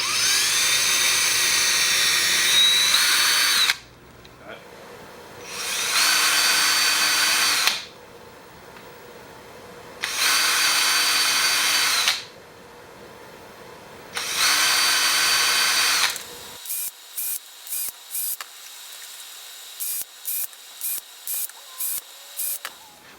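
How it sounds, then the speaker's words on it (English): Power drill boring holes into the rubber tread blocks of a mountain bike tire, in four loud sustained bursts separated by pauses, followed by a run of short rapid clicks. "You start from the top, drill outside in so you can get nicely centered on your tread block."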